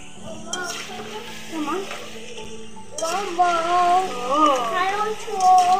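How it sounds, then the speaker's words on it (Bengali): Potato chips sizzle in hot oil as they are flipped and stirred, a steady crackling fry with occasional scraping under a voice speaking throughout. "ভালোভাবে উল্টিয়ে পাল্টে কিন্তু লাল লাল করে ভেজে নিতে হবে"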